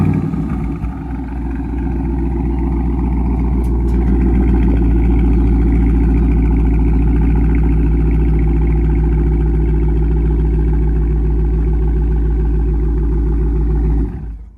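A Dodge Charger R/T V8 idling loud and steady after startup, a deep, dense burble with slight swells, held close and alone for most of the stretch.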